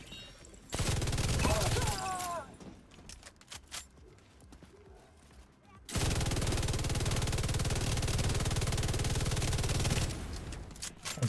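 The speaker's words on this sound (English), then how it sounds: "That's some shooting." Video game gunfire in two long sustained bursts of rapid automatic fire, loud and close, with a quieter stretch of scattered shots and clatter between them.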